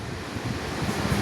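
An electric fan, freshly cleaned of dust on its blades and fitted with a new capacitor, blows a steady, broad rush of air close to the microphone, with no talk over it.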